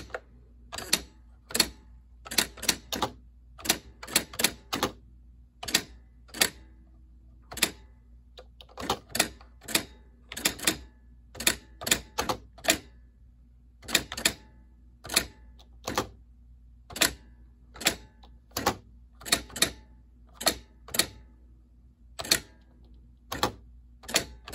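Keys clack on a Smith Corona WordSmith electronic typewriter in uneven bursts of sharp, close strikes with short pauses between them, typed one-handed, and no one speaks.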